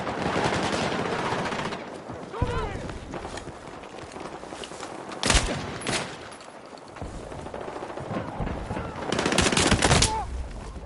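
Battlefield 6 combat with rapid automatic gunfire bursts and several sharp loud shots crackling over a constant battle din, with footsteps and a voice talking now and then.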